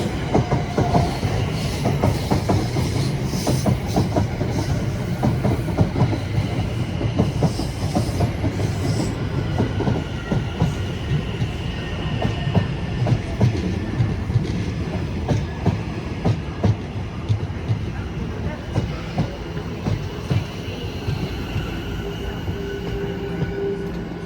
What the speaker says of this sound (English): the London Overground service arrives in beside me from Stratford